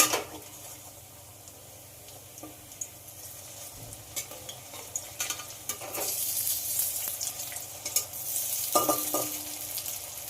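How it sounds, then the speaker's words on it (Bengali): Steady hissing sizzle of fish frying in hot oil after being flipped, with occasional clinks and scrapes of a utensil; the crackle grows louder toward the end. "এই সাইডটাও ভেজে নেব"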